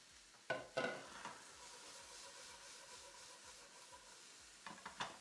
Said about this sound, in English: we're going to saute up the veggies